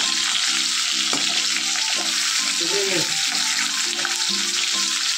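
Bori lentil dumplings fry in hot oil, producing a steady loud sizzle up close, while soft stirring clinks and a faint background murmur of voices come and go.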